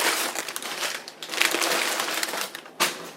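Paper crinkling and crushing while a Simplex 2903 fire alarm is unboxed, with close, loud, continuous rustling and a sharp crackle near the end.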